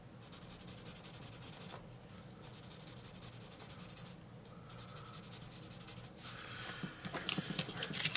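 A Camel HB pencil writes on paper, giving soft, close scratching strokes in bursts separated by short pauses, with a brief rustle near the end.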